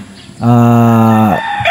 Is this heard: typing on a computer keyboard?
no